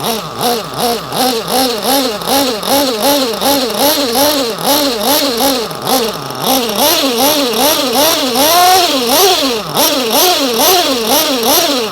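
A cold engine is revved repeatedly in short, easy pulls while warming up, its pitch climbing and falling in a regular rhythm, loud and close.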